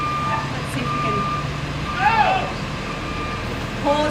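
A truck's reversing alarm beeps faintly outside a house during a live auction in Brunswick East, a thin steady tone behind a noisy street crowd with someone talking nearby.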